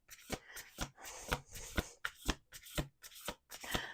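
A deck of cards is shuffled repeatedly, quick crisp riffling bursts in a steady rhythm, close and fairly quiet.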